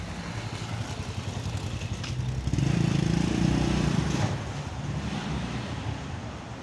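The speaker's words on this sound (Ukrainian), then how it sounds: "А тут трамвай їздить" A tram runs along a narrow street between buildings in Lviv, a low rumbling roll that swells to a loud pass in the middle and then fades against steady outdoor street noise and wind.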